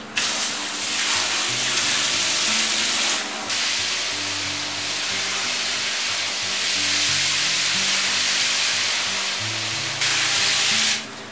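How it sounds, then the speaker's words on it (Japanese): Large aquarium tank being washed with water: a loud, steady hiss of spraying and running water with scrubbing, briefly dropping in intensity and resuming, close up with no talk. "水槽を洗います"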